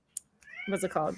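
A pet cat meows close by in a short, rising call, with people talking over and around it.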